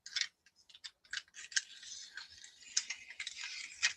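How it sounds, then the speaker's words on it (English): Repeated metallic snipping of gummed-up scissors opening and closing, close and fairly quiet, in an uneven rhythm with short pauses between cuts. "I done gummed up these darn scissors so they don't"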